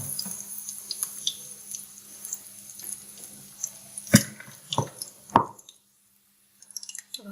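Small vegetable pakoras made from batter drop one by one into hot frying oil. Each one lands with a soft, wet plop over a faint hiss of sizzling, with the plops spaced irregularly.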